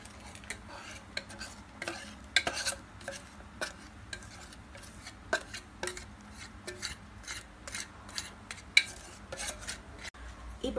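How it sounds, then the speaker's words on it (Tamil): Cake batter of maida and baking powder being stirred in a bowl, with a spoon scraping and clinking against the sides in quick, uneven strokes, close and fairly quiet, with no talking. "நல்லா கலந்து விட்டுக்கோங்க."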